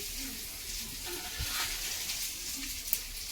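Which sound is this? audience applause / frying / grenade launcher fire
frying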